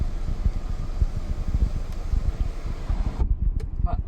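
Inside a Hyundai Exter, the sunroof motor drones steadily as the roof panel closes, a close, moderate hum with faint rattling that cuts off sharply near the end, followed by near silence with no voices.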